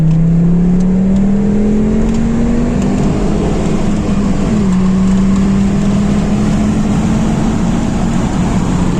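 A Volvo V70 R's five-cylinder engine drones loudly and steadily while driving, its pitch climbing gradually then settling, with a constant road and wind rush beneath and no talk.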